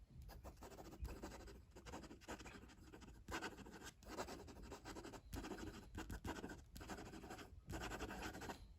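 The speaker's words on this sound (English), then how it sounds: "Let's just do some fast writing." A Laban Rosa fountain pen nib scratches quickly across paper in a close, steady run of rapid strokes with brief pauses between bursts, no voices present.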